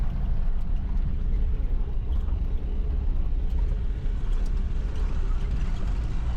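A car drives off-road through rough terrain in Kazakhstan, its engine and tyres making a steady, loud, close rumble that continues throughout with no talking.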